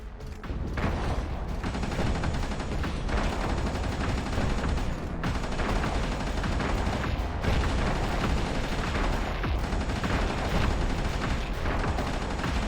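A weapon in the underwater mining game Ocean Keeper shoots through rocks, producing steady rapid gunfire with mechanical clanking that continues loudly and without a break from start to finish.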